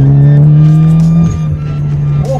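A Mitsubishi Evo X engine drones steadily at close range while driving, then its pitch shifts as it downshifts, with a brief rising rev near the end.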